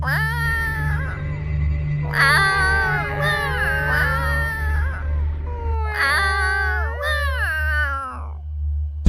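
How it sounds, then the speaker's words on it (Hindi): Long, wailing cat yowls rise and fall in overlapping bursts over a steady low hum, eerie and almost human. "बिल्लियों की बड़ी बड़ी आंखें चमकती हुई सब एक टक प्रिया की मम्मी को ही देख रही हैं और फिर वो एक एक करके रोना शुरू कर देती हैं।"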